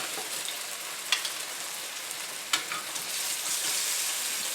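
A tuna steak sizzles and fries steadily in a hot pan just after being turned, a loud, dense hiss that stays constant throughout, with a couple of faint clinks and no talking.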